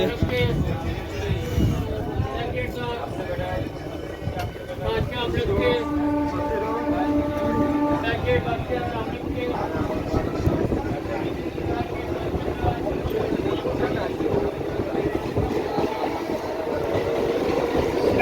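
A passenger train on the Tarakeswar to Dakshineswar line runs at speed, a steady rumble and rattle of wheels with a long horn-like tone partway through, while someone talks over it.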